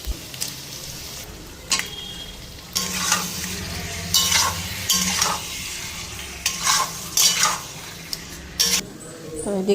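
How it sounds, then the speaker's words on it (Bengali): Chicken is fried in a pan with chilli powder, salt and spices, with a continuous sizzle broken by repeated scraping strokes of a spoon as it is stirred, close and fairly loud. "লঙ্কার গুঁড়া লবণ এখন চিকেনগুলিও দিয়ে দেবো"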